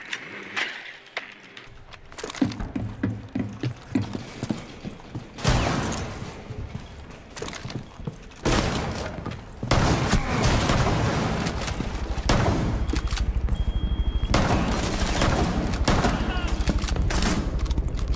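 Rainbow Six Siege gunfire, dense bursts of rapid shots and clattering mechanical noise coming in waves, loud and near, with voices talking over parts of it.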